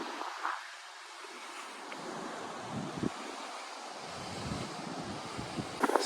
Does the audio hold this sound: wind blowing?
yes